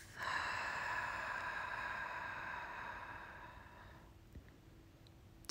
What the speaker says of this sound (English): Part the lips and exhale through the mouth.